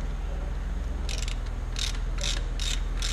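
Ratchet wrench working on the engine of a Mercedes A-Class W168 during tensioner and water pump replacement, giving four short bursts of clicking in a loose rhythm over a steady low hum, close and clear.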